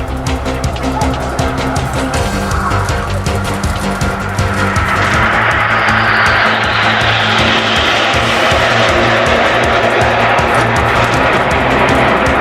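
Red Arrows jets touching down at an air day, a continuous loud roar of jet engines that swells and brightens midway through and holds steady to the end.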